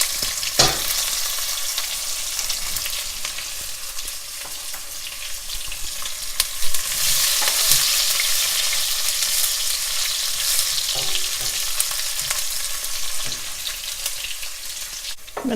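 Onion sizzling and frying in a hot pan for sambar, a steady crackling hiss with occasional stirring clatter, close and continuous without talk.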